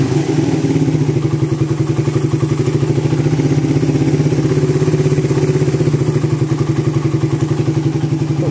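A motorcycle engine running after its carburettor main jet was tuned, on a bike that arrived with a jammed, broken starter: a loud, close, steady idle with an even thumping rhythm throughout, no speech.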